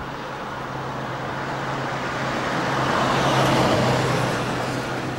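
Road traffic on a village street at a corner in Addington and Woodford, Northamptonshire, a steady broadband roar with a low hum, swelling slightly as vehicles pass near, no voices.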